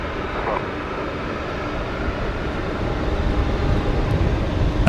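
Steady, broad engine roar from a Queenstown-bound airliner taxiing to the end of the runway at Brisbane Airport, heard from a distance as a continuous rumbling drone that swells slightly toward the end, with no voices.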